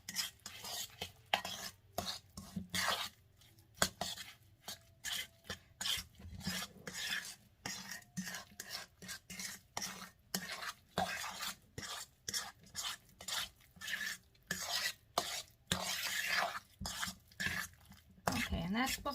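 A spoon briskly stirs matzo ball batter of liquid and dry mix in a bowl, producing a steady rapid run of scraping, clicking strokes close by, with a person talking over them.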